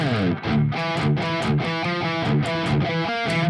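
Chugging, palm-muted electric guitar with distortion, short choppy picked notes in a quick steady rhythm, played close with no voices.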